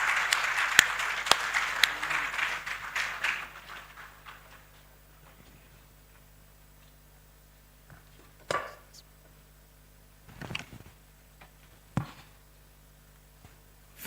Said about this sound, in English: with a round of applause, please let's welcome our chairperson for the closing ceremony